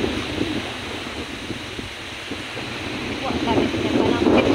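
Wind gusting across the microphone at Bolabog Beach, a steady broadband rush that swells louder toward the end, with faint surf underneath and no clear talk.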